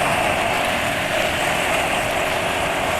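A motorcycle engine idles steadily on Motul GP Matic 10W40 oil, a loud, continuous mechanical hum with a rough, noisy texture that stays even throughout, with no voices over it.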